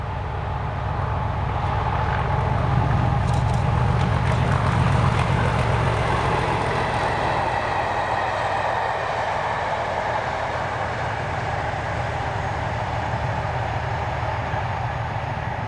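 A heavy locomotive, class 37 number 37099, rumbles past hauling a train on the Ayrshire coast, with a deep engine drone and rolling wheel noise, loud and close, continuing steadily throughout.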